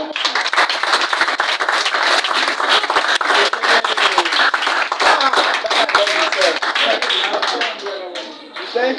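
Sustained round of applause from an audience at a youth sexuality education talk, dense steady clapping filling the room with voices audible underneath, easing slightly toward the end.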